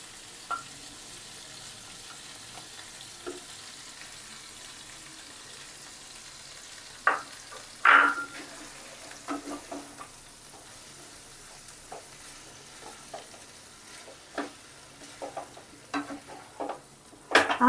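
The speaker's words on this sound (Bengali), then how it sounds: "ভেজে নেব পনিরটাকে।" Paneer cubes fry with pointed gourd in a pan over very low heat, a soft steady sizzle with scattered spatula clicks and scrapes, quiet and close throughout.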